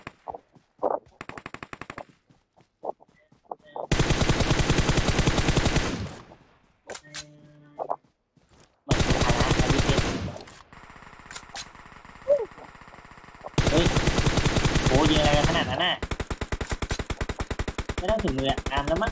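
In the video game PUBG Mobile, loud, close automatic gunfire comes in long sustained bursts, separated by quiet gaps and a few shorter volleys, with players talking between them.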